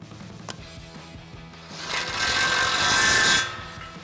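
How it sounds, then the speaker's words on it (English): An impact wrench fitted with a 21 mm socket tightens a factory nut on a 2021-2023 Ford Bronco's front suspension during a leveling kit install, giving a loud rattling buzz for over a second after quiet shop noise and a sharp tap. "grab our 21 mil socket on our impact and tighten this down"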